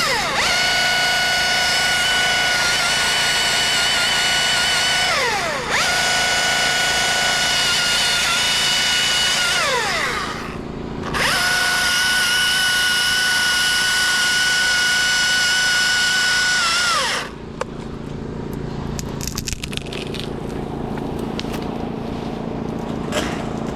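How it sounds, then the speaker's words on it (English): A winch hauling its rope tight around a tree on a slackline rig, a steady mechanical whine that pulses in long rising strokes with brief pauses between pulls, loud and close, then breaking into rattling clicks and scrapes near the end. "hook the winch hook onto it and pull it tight"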